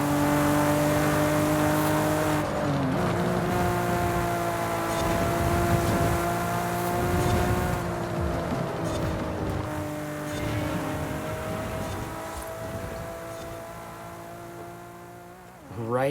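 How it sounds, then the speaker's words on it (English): A 1998 Toyota Supra RZ with the 2JZ twin-turbo engine accelerates hard, its exhaust rising in smooth, sustained tonal sweeps through the gears, loud and close, easing slightly toward the end. "Let's take a listen to that exhaust note."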